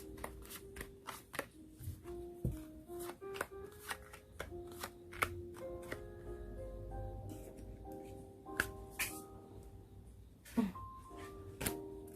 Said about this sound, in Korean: 레노모드도 한 장 더 뽑아볼게요.